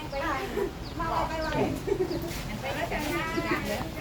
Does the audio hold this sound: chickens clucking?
yes